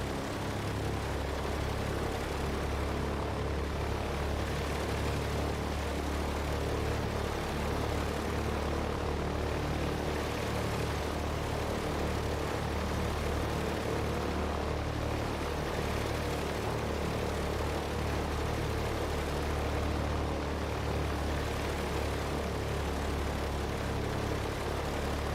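A Douglas DC-3's propeller engine roars steadily and loud in Microsoft Flight Simulator 2020 after an in-flight restart, a dense constant drone with no voices.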